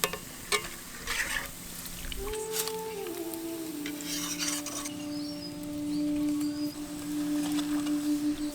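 Boondi, drops of gram flour batter, frying in hot oil, a soft continuous sizzle with rubbing and scraping sounds and brief sharp clicks, fairly quiet and with no voices.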